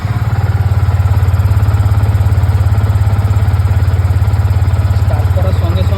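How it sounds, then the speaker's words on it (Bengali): A Yamaha MT BS6 motorcycle engine running with a steady rapid low putter and mechanical clatter, loud and close, holding an even idle throughout. "ইগনিশনটা অন করলাম, এবার স্টার্ট করব।"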